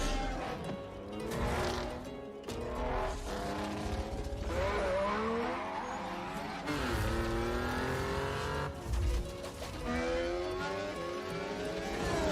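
Car engines rev and accelerate loudly through a video game trailer set in Mexico, including a Bronco, with rising and falling engine pitches and possible tire squeal over a continuous backdrop of game audio.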